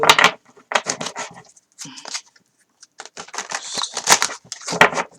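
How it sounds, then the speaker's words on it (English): A tarot card deck is shuffled and handled in quick bursts of papery riffling and flicks, broken by short pauses, close and fairly loud. "Messing about with the deck to see if a card will come out."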